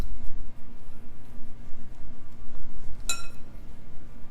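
A fork whisks a single egg in a bowl for miniature sausage quiche, giving one sharp metallic clink against the bowl over a low steady background hum, with no other distinct strokes.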